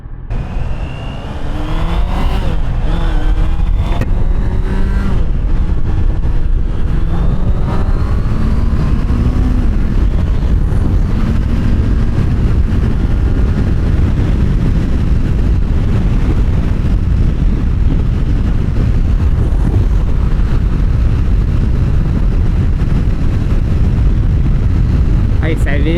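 Honda CBR650R motorcycle on the road with a vibration fault: a steady engine drone under heavy wind rush, revs rising and shifting in the first few seconds, then a constant roar.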